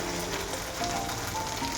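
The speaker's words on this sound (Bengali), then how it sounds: "আর ঢ্যাঁড়স ভাজা করছি, গ্যাস জ্বলছে" Okra fries in oil over a lit gas stove, giving a dense, continuous hiss and crackle like light rain, steady and close for a couple of seconds with no talking.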